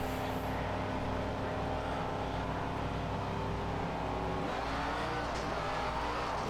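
Race cars roar together at the start of Heat 2 at Stafford, a dense, steady engine drone that holds loud throughout, with a slight shift in tone near the end as the field moves off.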